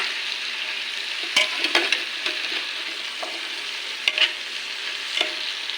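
Vegetables stir-fried in a pan give a steady close sizzle, broken by scraping clatters as they are stirred and tossed, with no voices.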